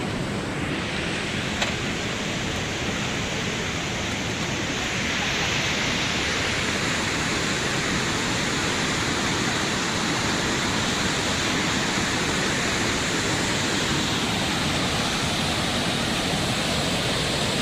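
Tiger Falls waterfall in Mabuhay, Agusan del Sur, roars as a steady, dense rush of falling water, loud and continuous throughout with no talk over it.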